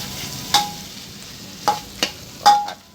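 Rice noodles stir-fried with pork in a hot pan, a soft steady sizzle broken by four sharp scrapes and clanks of a spatula against the metal.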